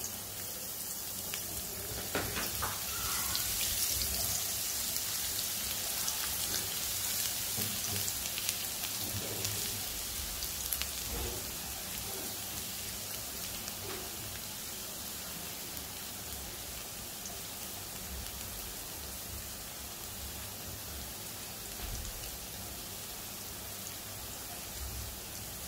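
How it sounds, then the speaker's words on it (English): Minced garlic fries in about three tablespoons of oil, giving a dense, steady sizzle that carries evenly from start to finish with small crackles and pops and no voices. "Fry the garlic"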